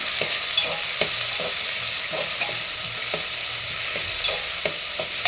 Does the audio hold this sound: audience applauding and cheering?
no